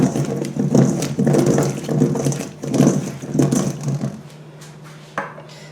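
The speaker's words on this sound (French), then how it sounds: "Ensuite, je vais prendre les pommes de terre, je vais les mettre à l'intérieur. Voilà. Et je vais bien mélanger." Chicken thighs with herbs and potatoes being stirred together in a dish, giving scraping, knocking wooden-and-metal clatter in uneven bursts, close and fairly loud, fading to quiet near the end.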